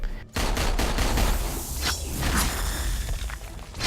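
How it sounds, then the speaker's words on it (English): In a video game, Deadpool fires pistols in rapid bursts of gunfire mixed with whooshing swings and impacts, loud and close against a dense game soundscape. "He uses pistols, swords, and as he levels up, he can take advantage of his healing factor to regain health over time."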